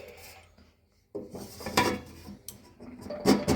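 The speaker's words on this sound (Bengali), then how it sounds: "এবার এটাকে আমি ঢাকা দিয়ে দিচ্ছি।" A lid set onto a cooking pot on a switched-off gas stove while making doodh puli, giving a few close metallic clanks and scrapes of the lid against the pot after a brief quiet pause.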